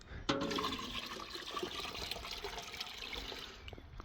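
Liquid, tree sap collected on a farm, is poured one-handed out of a bucket, a close, steady gushing splash that runs for several seconds after a sharp start.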